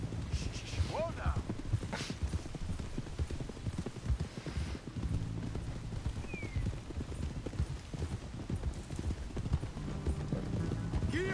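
Horse hooves clip-clop at a steady walking pace in the Western video game Red Dead Redemption, quiet and continuous beneath characters talking and ambient game sound.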